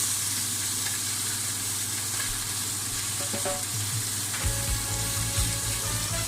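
Beef steak with pepper sizzles steadily in a hot pan, a continuous bright frying hiss with occasional pops and a stronger sputter toward the end, close and alone without talk.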